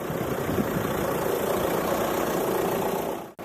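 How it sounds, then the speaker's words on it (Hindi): A tractor engine runs at a steady, moderate drone on a muddy, rain-soaked dirt road at night, with a constant rumble and a brief dropout near the end. "ट्रैक्टर उछल कूद कर चल रहा"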